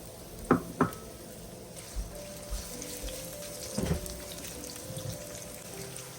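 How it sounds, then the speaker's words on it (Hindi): Finely chopped half onion dropped into hot oil in a home kitchen for dhaba-style daal, with a couple of sharp knocks up front, then a soft, steady sizzle. "ऑयल गर्म हो गया है तो अब मैं इसके अंदर ये एक प्याज आधी मैंने काटी है"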